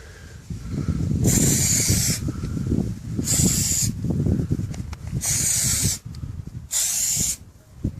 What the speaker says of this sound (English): just do a quick spray to start with